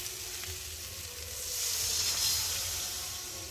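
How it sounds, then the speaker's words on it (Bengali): Fried spices for a soybean curry sizzle loudly as water is poured into the pan, the hiss swelling in the middle and easing slightly toward the end, with no talking. "আর এখন আমি পরিমাণ মতো জল দিয়ে দিই।"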